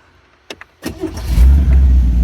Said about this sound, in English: Can I fire it up? Sure, fire it up.